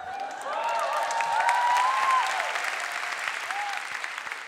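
A lecture-hall audience cheers and applauds a speaker taking the stage to talk about justice, with rising whoops and shouts over sustained clapping that swells and then gradually thins.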